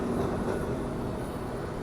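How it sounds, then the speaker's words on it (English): A heritage tram rumbles past at moderate distance on Blackpool seafront, a steady low rolling drone of wheels on rails with no voices. "There's a heritage tram coming."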